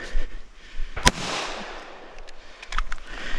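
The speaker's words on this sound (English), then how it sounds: "Four more shots before you go prone." A single sharp, loud gunshot cracks at a shooting competition stage, followed by a fading echo and a couple of fainter distant shots near the end.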